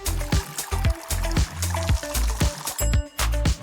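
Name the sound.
water being poured to fill a container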